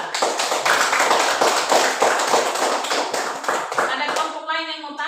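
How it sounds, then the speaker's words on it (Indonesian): A classroom of primary school children claps together in a brisk, rhythmic round of applause for a group, loud and close, fading out as a voice and chatter rise at the end. "Tepuk tangan untuk kelompok 2."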